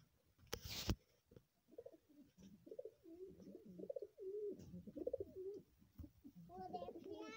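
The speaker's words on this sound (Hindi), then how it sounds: "कबूतर के चूजे दिखाते हैं।" Close, soft pigeon coos repeat in a steady rolling rhythm, following a brief loud knock at the start.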